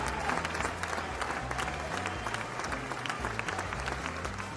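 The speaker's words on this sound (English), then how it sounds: "Let's give them a roaring applause to welcome them to our show." A game-show studio audience claps to welcome a contestant family onto the stage, a steady, moderately distant patter of hands with a faint rhythmic musical undertone and no voices.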